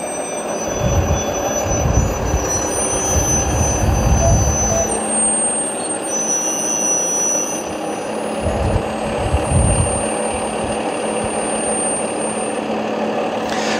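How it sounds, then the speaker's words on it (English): A fork truck at a marina in North Tonawanda, NY carries a boat to the water's edge, its engine droning steadily and loudly with low rumbling surges and a high tonal whine, no talking. "the fork truck will go right up to the edge of the water so that we can place the boat into the"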